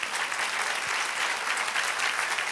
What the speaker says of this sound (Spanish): Dale un aplauso al Señor otra vez.